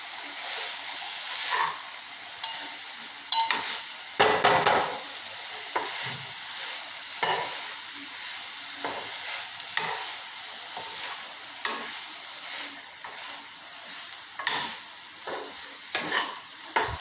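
Moringa leaves stir-frying in a pan make a continuous soft sizzle, broken by repeated scraping and tossing strokes of a spatula at an uneven rhythm, close by and without talk.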